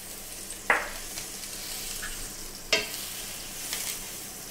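Trout fillets cooking in butter in a pan over very low heat give a soft, steady sizzle, broken by two sharp utensil taps against the pan.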